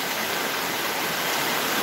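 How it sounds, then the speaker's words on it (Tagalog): A waterfall drops from a Swiss mountain top as a constant, loud broadband rush of falling water, unbroken and with no voices. "doon galing yung tubig na itong bumabagsak doon sa tuktok ng bundok na yun"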